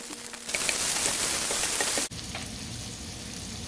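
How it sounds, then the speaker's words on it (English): Diced onion frying in hot bacon grease gives a bright, crackling sizzle that rises sharply after a quieter start, then cuts briefly and carries on at a lower, steady level. "I've got some nice little bacon grease going in here"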